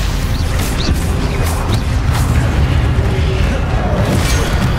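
Stupefy spell effects in the Hogwarts Legacy video game: loud booming magical impacts and crashing bursts over dense combat noise, several hits in quick succession.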